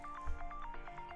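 A phone rings in a quick repeating electronic trill of short pulsing beeps, fairly quiet and alone.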